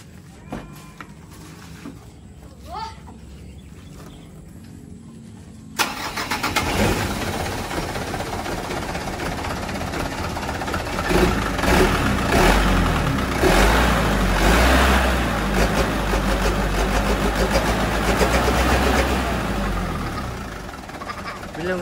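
A quiet stretch gives way to a heavy Mitsubishi Canter truck engine fitted with a turbo hose and FRM muffler suddenly roaring to life, then revving loudly and roughly without pause to the end.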